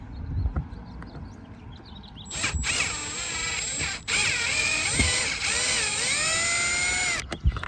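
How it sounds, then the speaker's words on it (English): Door speaker panel screws coming out of a 2006 Acura TL during a JBL speaker upgrade: a close, steady whirring power-tool drive with rising and falling pitch, broken by sharp clicks and brief pauses. "we got 2 screws we gotta remove. All right, so I'm gonna remove them right now."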